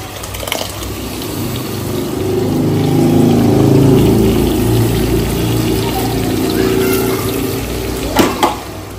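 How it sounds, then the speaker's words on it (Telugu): A glass of water pours into a cooking pan for gravy in a steady, loud gushing stream that swells midway, followed by a couple of sharp clanks near the end. "నేను గుజ్జు కోసం గ్లాస్ వాటర్ వేసుకున్నాను"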